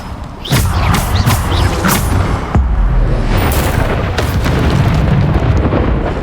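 Repeated booming blasts from the Bombarder spell in a video game duel, loud and dense with heavy low rumble, several sharp impacts striking over about six seconds with no talk.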